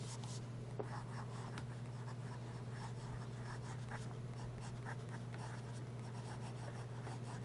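A Hale 159 fountain pen with a Goulet medium number 6 steel nib writing on paper, a faint continuous scratchy rustle of the nib over a low steady background hum.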